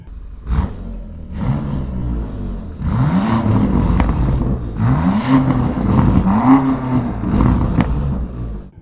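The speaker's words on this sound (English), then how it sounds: "Another fun part about the engine is the sound." A 2025 Range Rover Sport SV Edition 2 engine revs and accelerates through repeated gear changes, its loud growling exhaust rising in pitch with each pull before dropping on the shifts, close and continuous with no talking.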